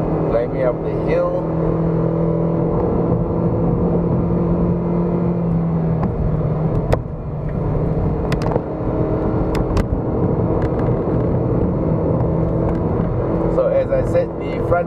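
Kia Cerato sedan climbing a hill in third gear on a Genting test drive, its engine a steady, even drone inside the cabin under continuous talk from a person in the car.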